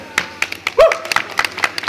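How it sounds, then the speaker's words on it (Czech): Quick scattered hand claps at a children's story performance, applauding a boar character, close and uneven, with a short vocal sound in the middle. "Potlesk pro Kance."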